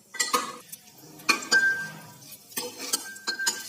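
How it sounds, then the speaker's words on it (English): Dry nuts are sautéed in a pan, with a few close bursts of spoon scraping and light metallic clinks separated by short quiet gaps. "Now I'm putting some dry nuts in it and saute it only for 2 minutes."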